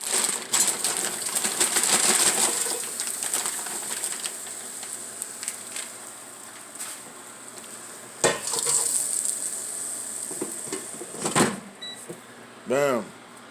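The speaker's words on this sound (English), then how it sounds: "frying some vegetables." Vegetables fry on a hot SteelMade USA flat top griddle with a steady sizzling hiss, broken by scraping and clanking from a spatula and a few sharp knocks, with a voice talking at times.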